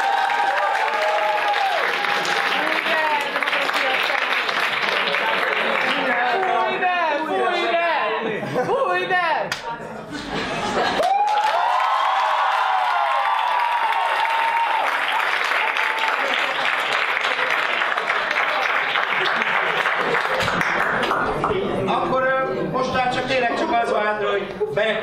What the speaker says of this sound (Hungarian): Tapsoljuk meg őket is!